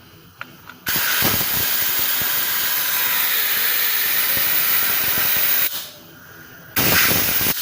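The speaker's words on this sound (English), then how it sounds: "Bearing's moving pretty good." Front hub bearing of a Vespa GT200 scooter, freshly cleaned with parts cleaner, spinning freely with a steady close hiss and faint mechanical whir that runs for several seconds, then stops and starts again briefly.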